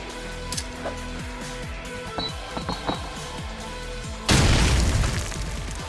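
Grenade detonating in Call of Duty 4 ProMod on the Backlot map, preceded by scattered game clatter and footsteps, then a sudden loud booming blast that rumbles on to the end.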